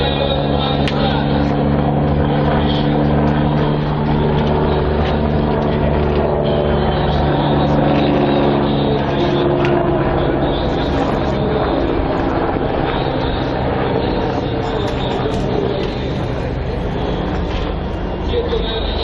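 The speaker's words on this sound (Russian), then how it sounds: "Вертолет «Ан-Санта»." An Ansat helicopter flies a display at the MAKS 2017 airshow, its engine and rotor a loud, sustained droning roar with steady tonal hum, while an announcer talks over it.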